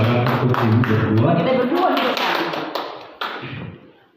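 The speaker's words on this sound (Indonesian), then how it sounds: "kita berikan tepuk tangan untuk Ibu berdua" A small audience applauds at an Indonesian gathering, a burst of clapping that starts strong and tapers off over a few seconds, mixed with a talking voice and a few sharp thumps near the end.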